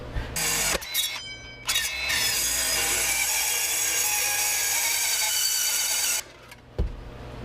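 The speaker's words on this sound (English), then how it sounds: "We're going to cut that flange off." A power tool cuts off a metal flange on a go-kart frame built from a 2008 Subaru, with a loud, steady, harsh high-pitched grinding whine that runs for several seconds after a couple of short starts, then stops.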